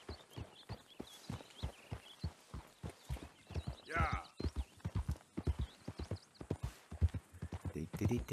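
Steady clip-clop of horse hooves riding in Red Dead Redemption 2, close and regular, with someone talking over the hoofbeats and a brief whinny-like burst midway.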